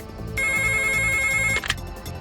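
A telephone rings with a steady electronic tone, one sustained burst lasting about a second and a quarter before cutting off, with a brief chirp after it, loud and close over low background music.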